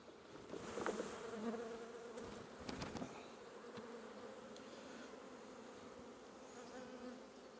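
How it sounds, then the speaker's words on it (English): Honeybees buzz in a steady, dense drone as they are shaken off a drone-comb frame into a hive box, with a few sharp knocks early on before the hum settles and continues alone. "I'm going to shake these bees off into the box and have a good look at the frame."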